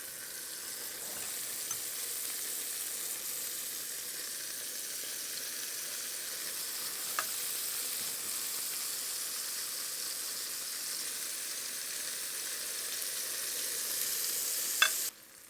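Meat patties frying in a pan with onions just removed, a steady close sizzle and hiss running alone throughout, with a couple of faint clicks and a sharper clatter near the end.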